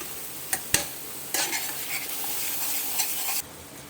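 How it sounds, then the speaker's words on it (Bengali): Masala with kasuri methi sautés in a pan for soya ghugni, a close sizzle under brisk stirring, with a couple of sharp utensil knocks at the start and steady frying before the sound eases off near the end. "মশলাটা কষানো হয়ে গেলে আমি এই সেদ্ধ সয়াবিনটা দিয়ে কষবো"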